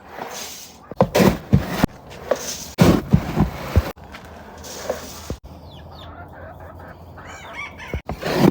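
Chickens cluck and a rooster crows on a farm, bursts of loud nearby clucking and crowing in the first half giving way to softer background bird sounds, with a final burst at the end.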